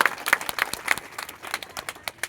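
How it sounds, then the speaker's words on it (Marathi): Scattered, lively clapping from a small seated audience at a kirtan gathering, uneven hand claps rising and falling in quick bursts, fairly close and unaccompanied by speech. "तर आधी सगळ्यांनी स्वतःसाठी टाळ्या वाजवा जोरदार"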